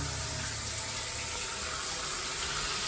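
Water runs steadily from a shower head in a bathroom fixture, a continuous broadband hiss throughout with no talking.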